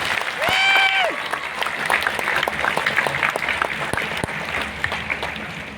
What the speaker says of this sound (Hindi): एक बार जोरदार ताली रईसों का